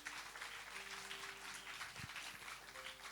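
Church congregation at a worship service gives faint, distant applause, a soft continuous patter of many hands with a low sustained tone and a brief thump underneath.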